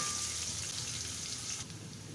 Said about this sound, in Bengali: এটা পুরো তেলে ভেজে নেব